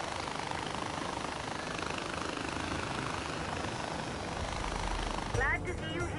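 Helicopter in the Far Cry video game, a steady broadband rotor and engine roar that stays loud and close the whole time, with a brief change near the end.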